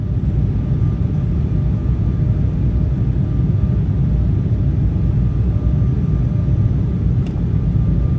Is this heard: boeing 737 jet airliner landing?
yes